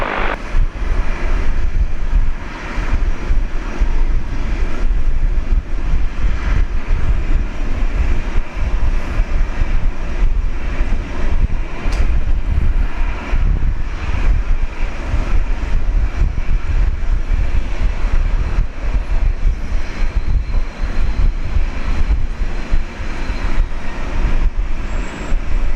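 Airliner landing on runway 01 at Brisbane airport, a loud, sustained roar of jet engines and rushing air that stays strong and steady for the whole stretch, with no voices.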